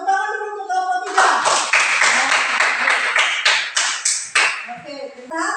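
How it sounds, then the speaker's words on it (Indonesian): A classroom group applauds a student team, a burst of brisk, close hand clapping lasting several seconds, with a voice briefly heard before and after the clapping. "silakan tepuk tangan dulu untuk kelompok 3"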